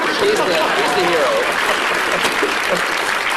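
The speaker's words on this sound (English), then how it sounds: "You can applaud him. He's the hero." Audience applause during a televised interview between a scientist and a talk show host, a short burst of crowd clapping with voices calling out underneath.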